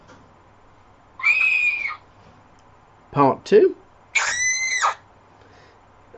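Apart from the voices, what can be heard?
female scream sound effect from a D&D sound app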